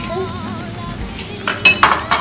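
Eggs frying in a pan with already cooked vegetables, a close, steady sizzle with utensil scrapes and clinks against the pan growing busier toward the end.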